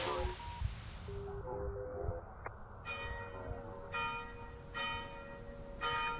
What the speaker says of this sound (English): The bells you hear are ringing to warn people to evacuate the city